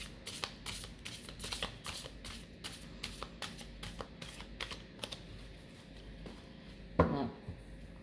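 Tarot card deck being shuffled at close range, a steady run of crisp riffling flutters and taps that ends in one sharper slap as the cards come together.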